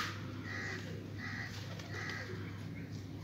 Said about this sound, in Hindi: ये देखिए निकल रहे हैं कबूतर,